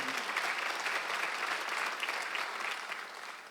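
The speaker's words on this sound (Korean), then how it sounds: "박수 하세요." A church congregation applauding during a Sunday worship service, a sustained, even wash of many hands clapping that tapers slightly near the end, with no speech over it.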